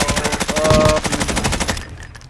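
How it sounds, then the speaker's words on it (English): A minigun fires in Modern Warfare Warzone, a loud, rapid continuous stream of gunshots close by that runs for about two seconds before cutting off abruptly. "Fucking minigun, bro."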